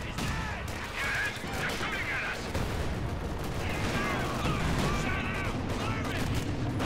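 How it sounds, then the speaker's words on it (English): Company of Heroes 2 battle in which gunfire and shells strike and bounce off a tank's thick frontal armour: a dense, continuous din of shots, impacts and crashes with no pause. "Lots of shot there, bouncing off the thick frontal armour."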